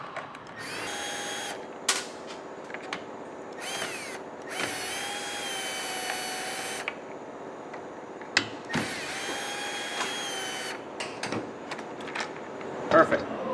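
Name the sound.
cordless drill removing a bolt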